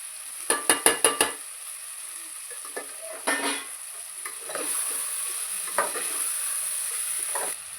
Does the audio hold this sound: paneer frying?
yes